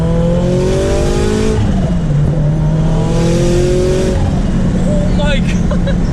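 A modded Scion FR-S accelerates hard with a loud exhaust, rising engine notes sweeping upward twice, close and loud, with excited voices chattering over it.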